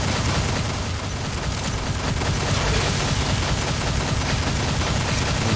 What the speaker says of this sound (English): I'm shooting with Honeycomb guns now